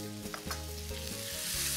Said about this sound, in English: When the butter is melted,